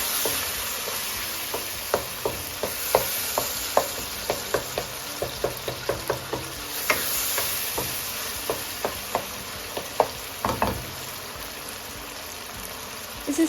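Tomatoes being mashed into frying keema for daal mash keema, a repeated rhythmic series of soft thuds and scrapes from pounding and stirring over a constant low sizzle.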